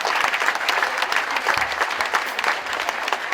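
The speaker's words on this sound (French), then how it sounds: "On les applaudit encore bien fort, s'il vous plaît." A cabaret audience applauds loudly for young performers aged around fifteen, a thick, continuous burst of many hands clapping close by, with no voices rising above it.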